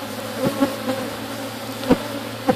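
Honey bees buzz steadily inside a busy hive during a split, a dense close drone with a few brief louder passes of single bees, no voices.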